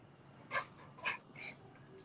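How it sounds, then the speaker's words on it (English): A dog in a room during an indoor yoga session gives three short, soft whimpering yips spaced about half a second apart, faint against quiet room tone. "With the dog licking my hand, Erika."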